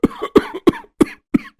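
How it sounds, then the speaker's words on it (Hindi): Five sharp, loud coughs in quick succession from a cartoon character caught in a snowstorm with a cold, each burst short and close, with no talk over them. "अरे लग रहा है मेरी खांसी फिर से शुरू हो गई है"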